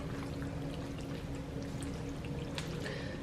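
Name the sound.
sauce being poured into tuna noodle casserole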